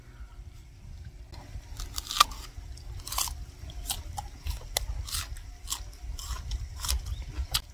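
Someone biting into and chewing a crisp apple jujube, a series of sharp crunches and wet chews spread irregularly over several seconds, close and distinct against a quiet outdoor background.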